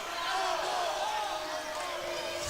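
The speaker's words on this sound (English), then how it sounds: "The crowd doesn't like it." A basketball crowd in a gym at a women's varsity game reacts to a foul call with a sustained, loud murmur of disapproval and voices throughout.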